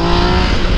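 A motorcycle revving and pulling hard on a street, a loud, steady close-up engine roar with no talking.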